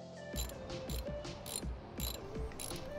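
Ratchet clicking in short repeated bursts while tightening exhaust bolts on a 2022 Honda CB500X during an aftermarket Fuel exhaust install, about six close, loud ratcheting strokes with no talk.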